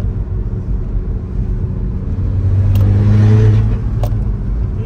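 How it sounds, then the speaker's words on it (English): A VW Caddy with a 1.9 TDI PD150 diesel engine runs close by with a steady low rumble that swells as it revs up, with a faint turbo whine on top. "You can even hear the turbo."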